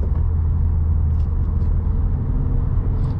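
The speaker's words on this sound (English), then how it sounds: "Definitely like that exhaust sound too. You can hear it once in a while." A 2016 Subaru WRX Premium with a six-speed manual is driven on the road, its exhaust a low steady droning rumble under constant cabin and road noise, fairly loud and without speech.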